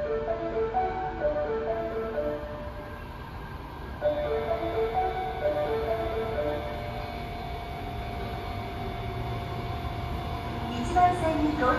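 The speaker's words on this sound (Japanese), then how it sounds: "1番線に八尾南行きが到着します。" An Osaka Metro Tanimachi Line 22 series train bound for Yao-minami arrives at a subway platform, a steady rumble with tonal motor whine building, while station announcements play over it.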